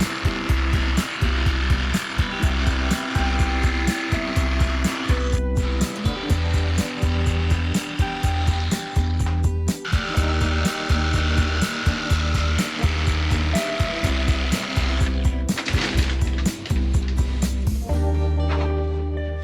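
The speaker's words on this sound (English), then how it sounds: "We're cutting our big bolts." A power saw grinds through big metal bolts inside a cabin, cutting in a steady rhythmic pulse of loud strokes that carries on continuously and stops abruptly near the end.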